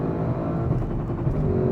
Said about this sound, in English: I just had to let it go a little long there, so it just tickled the rev limiter there